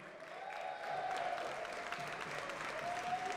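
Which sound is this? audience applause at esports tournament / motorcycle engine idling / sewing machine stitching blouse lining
audience applause at esports tournament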